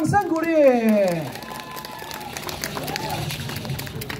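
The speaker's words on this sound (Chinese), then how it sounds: "大家掌声给我们右边安平我们丹丹舞蹈团掌声鼓励" An audience claps for a dance troupe at a weekend evening show at Fisherman's Wharf in Tainan. A short musical tone fades, then scattered, fairly quiet clapping from a crowd follows, with a voice and chatter over it.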